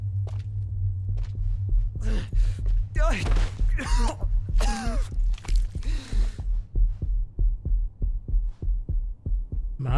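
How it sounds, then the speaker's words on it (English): A slow, steady heartbeat pulses in Final Fantasy 16, with deep rhythmic thumps continuing under groaning voices and in-game speech. "And you can feel that in the controller, the heartbeat."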